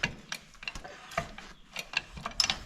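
A jack being ratcheted up by hand, a series of quick close clicks and metallic clacks in an uneven rhythm, moderately loud with no talk.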